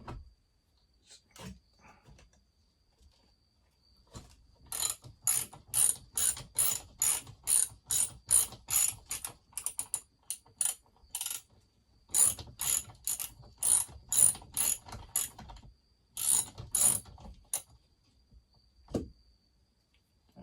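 Ratchet clicking rapidly in bursts while removing bolts from a McCulloch Super Pro 81 chainsaw engine during a teardown, close and crisp, several runs of quick clicks with short pauses between them.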